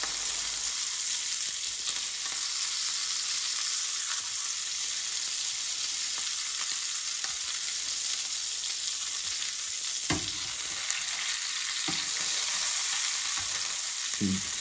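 A homemade burger patty fries in very hot oil, a dense continuous sizzle and crackle with sharper spits and pops, close and steady throughout with no talking.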